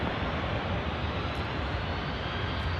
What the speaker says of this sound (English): That's a buttery smooth touchdown